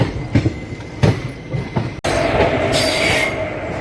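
A Tirunelveli–Purulia train passes through Katpadi Junction, its cars rumbling loudly and close with rhythmic wheel clatter, then a sudden cut into a steadier, brighter roar with a faint wheel squeal.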